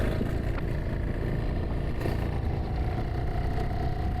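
A car engine pulls steadily in fourth gear without any gear change, giving a continuous low, rumbling drone with road noise that holds an even level throughout.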